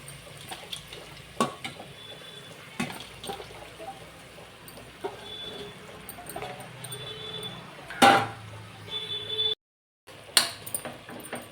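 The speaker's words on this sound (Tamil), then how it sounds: "குடலை நல்லா வதக்கிக்கலாம்." Cleaned goat intestines sautéed in a pan for a curry: a low continuous sizzle with scattered clinks and scrapes of a spatula against metal, a louder clatter near the end, then a brief silence before the stirring resumes.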